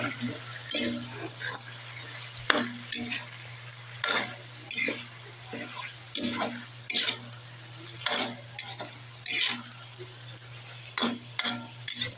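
Chicken pieces for afritada frying in a pan, with repeated scraping stirs of a utensil in uneven bursts over a low steady hum and soft sizzle.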